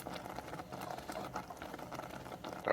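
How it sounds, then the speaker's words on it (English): Grits thickening in a pot as they are stirred after a cup of water is added, giving a soft bubbling, sputtering patter with scraping, close and continuous. "continue stirring the grits"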